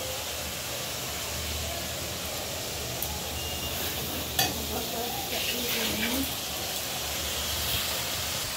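Chicken curry spices with whole green chillies fry and are stirred in a pan, producing a continuous close sizzle with scraping strokes and a sharp clatter midway; a faint voice surfaces briefly.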